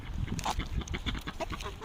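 Farm ducks quack and call in an excited, overlapping chorus, close and fairly loud, with rapid repeated calls filling the whole stretch.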